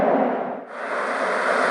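MIUI 10 nature notification sound of the desert: a steady, airy broadband whoosh like wind over sand, briefly dipping and thinning near the middle before swelling back, alone with no voices.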